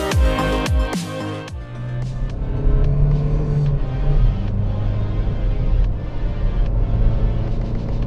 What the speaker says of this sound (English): acceleration in the new Verna comes in very easily, and the mid-range is quite strong